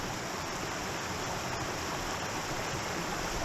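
Creek water running steadily in the Ozark National Forest in Arkansas, near the confluence of two creeks, heard as a constant close rushing hiss with no talk.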